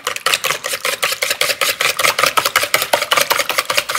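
Two eggs lightly whisked for varenyky dough, a fork or whisk beating them in a fast, steady run of crisp clicking strokes, close and fairly loud with no talking.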